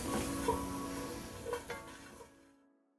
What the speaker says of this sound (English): So I'm gonna stir it here for just like a minute or two, let it get kind of toasty